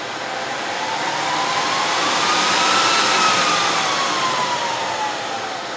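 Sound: Dell PowerEdge 2950 server fans spinning at full speed

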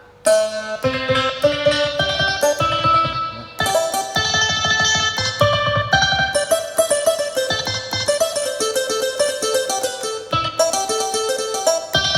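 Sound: Thai hammered dulcimer keyboard sample

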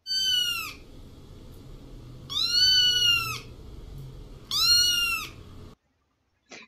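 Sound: pet cat meowing

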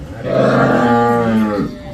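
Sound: cow mooing on a dairy farm

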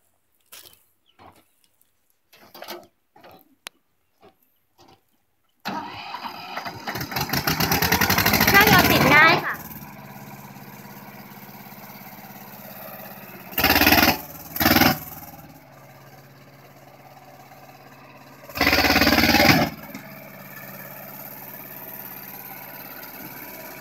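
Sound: Mitsubishi 25 hp two-wheel-drive diesel ride-on tractor engine running

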